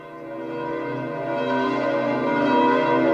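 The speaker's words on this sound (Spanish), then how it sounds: "Mientras escuchamos el tañido de las campanas de la Basílica de San Pedro" Church bells of St. Peter's Basilica in Rome peal steadily during a papal Mass blessing, a rich sustained wash of overlapping ringing tones that swells slightly louder toward the end, with no voices.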